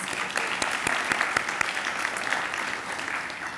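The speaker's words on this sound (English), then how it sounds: "Guys, give it a round of applause" Applause from guests at a Latino Leaders Network awards luncheon in New York, a fairly quiet room of clapping with a few sharper nearby claps standing out, fading slightly toward the end.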